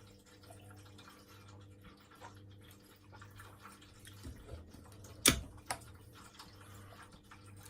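A single drop of water falls into a glass of whisky with a brief, sharp plink near the middle, followed by a fainter tick, against a quiet room hum.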